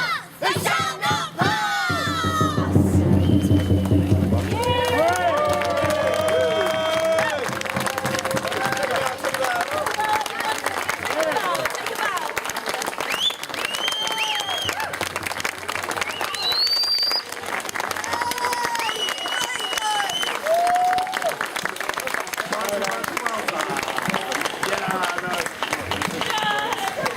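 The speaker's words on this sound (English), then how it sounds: "Give them a great round of applause." A crowd applauds and cheers loudly for the Cornucopia Theatre group after a Cable Street performance. Shouts and whoops run through sustained clapping, with voices over the noise.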